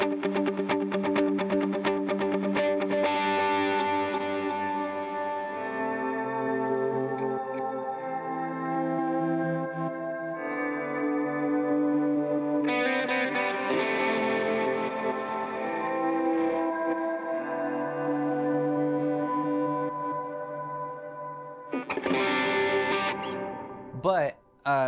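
Electric guitar through an HX Stomp with delay and reverb, playing sustained chords and ringing notes that smear into long echoing tails, steady and moderately loud with a brief burst of strumming near the end.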